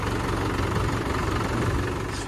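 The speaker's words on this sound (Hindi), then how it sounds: "इसको ट्रैक्टर चलाना सिखा दिया मैंने, और ये ट्रैक्टर चलाएगी अब खेतों की उराई यही करेगी" A tractor engine runs loud and close, a steady low diesel chug with a knocking, vibrating idle that holds unbroken throughout.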